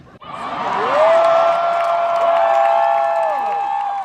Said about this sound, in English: People cheering for F America right there.